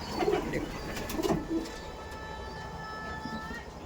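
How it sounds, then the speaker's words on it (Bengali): A male Kalanka pigeon coos softly in a couple of low, throaty bursts near the start, then quieter background hum with faint distant noise continues. "এটা হচ্ছে নর পায়রা"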